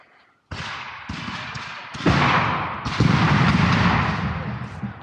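Musket volleys boom at a Revolutionary War reenactment in Camden, a sudden loud ragged blast followed by further staggered cracks and rolling echoes over several seconds, outdoors and close.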